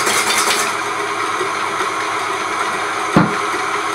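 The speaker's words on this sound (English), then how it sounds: "Whilst the egg whites are mixing up." An electric mixer whisks egg whites in a bowl with a steady, loud whir that runs throughout, broken near the end by a single short knock.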